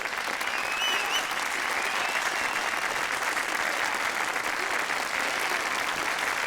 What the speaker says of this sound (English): Almost a round of applause.